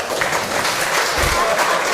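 Audience at a political debate applauding, a dense, loud burst of many hands clapping steadily throughout.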